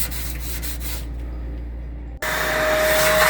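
Rubbing noise gives way to a brief cut, then a loud vacuum cleaner starts up and runs steadily with a high whine, close by, cleaning up after sanding a microwave interior.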